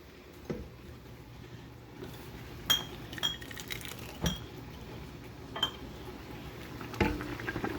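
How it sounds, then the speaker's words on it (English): Quiet kitchen clinks and taps of a metal ladle against glass pint jars while hot corn and pepper relish is ladled in, scattered irregular knocks over a faint background hum. "we are going to ladle our hot mixture into our pint jars"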